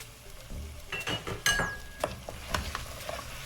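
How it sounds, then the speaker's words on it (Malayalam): Chopped tomato is stirred into a sizzling spice mixture in a pan, with a few sharp scrapes and metallic clinks of a spoon against the pan over a light frying hiss, close up and without talking. "ഇതൊന്ന് നന്നായിട്ട് ഇളക്കി കൊടുക്കുക."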